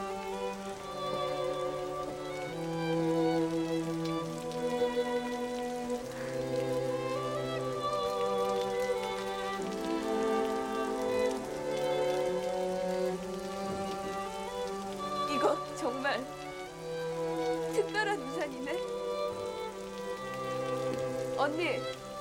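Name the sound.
rain falling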